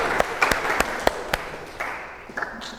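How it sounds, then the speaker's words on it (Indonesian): Scattered hand clapping from a classroom of students, a few distinct claps ringing out with a light, thin crowd applause underneath, brief and moderately quiet. "kita beri aplaus untuk Danu dan Sultan"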